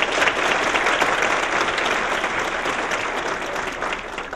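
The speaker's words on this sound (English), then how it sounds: "Can we give them a quick round of applause?" Sustained applause from a conference audience at an animal-welfare keynote, steady and dense clapping throughout, moderately loud with no talk over it.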